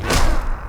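A bazooka hit in the fighting game Injustice, one heavy booming thud that quickly dies away in a short rumbling tail.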